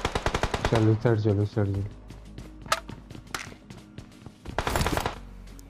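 Bursts of gunfire from a mobile battle-royale shooter game, rapid crackling volleys near the start and end with scattered single shots between, under a voice speaking Hindi.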